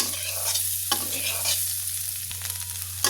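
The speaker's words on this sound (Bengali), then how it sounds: "আমি 5 মিনিট আলুটা ভেজে নেব।" Potatoes salted and frying in a pan for an egg-and-potato curry sizzle loudly and continuously at close range while being stirred, over a steady low electrical hum, with no voices.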